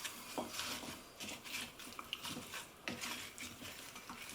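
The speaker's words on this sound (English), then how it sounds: "I'm going to give that a good stir" Carrots tossed with onion, garlic and spice mix in a mixing bowl make soft scraping and rustling with light utensil clinks against the bowl, fairly quiet and close, repeated in short strokes without talk.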